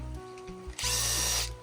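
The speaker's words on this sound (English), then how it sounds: "and then we're gonna start drilling holes." A power drill bores holes into a mushroom log outdoors on a Maine homestead, with a low idle hum and then a loud, sustained high whine for nearly a second before it winds down.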